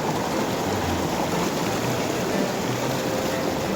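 Strong river current rushing steadily, a dense continuous wash of water noise with no break, close and fairly loud.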